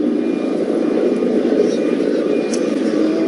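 Police helicopters hover over a locked-down London, making a steady, unbroken rotor drone that fills the background while someone talks over it.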